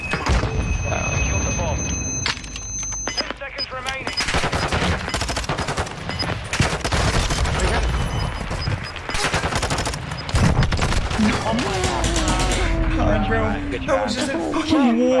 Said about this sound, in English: yeah. Bullets.